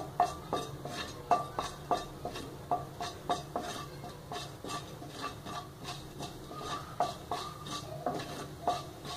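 Mustard seeds and cumin fry in hot oil for a tempering, a soft sizzle under steady, rhythmic clinks of a spoon stirring against the pan, close and moderately quiet.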